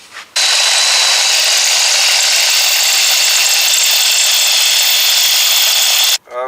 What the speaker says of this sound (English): we're going to go ahead and just drill this out and tap it.